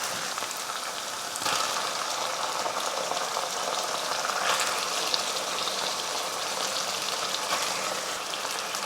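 Sliced onions with ginger garlic paste sizzle in a hot pan while chicken curry is being made: a continuous, even crackling hiss with a brief swell, no voices.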